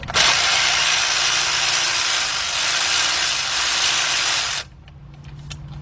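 A ratchet works at a 10mm bolt on the oil pan of a 2005 Cadillac CTS 3.6, its fast continuous clicking buzz running loud for several seconds before stopping abruptly into quiet shop sounds.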